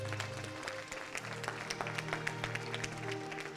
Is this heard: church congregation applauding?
yes